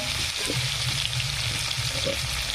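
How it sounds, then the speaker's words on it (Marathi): Finely chopped tomatoes sizzle and fry steadily in a pan for a gravy-bean curry, a close, continuous hiss with faint stirring sounds and no talking. "आता छानपैकी असे टमाटे टाकून घेतलेले आहेत"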